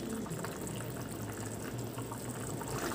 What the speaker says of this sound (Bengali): এখন মাছগুলো দিয়ে কিছুক্ষণ ফুটিয়ে নেব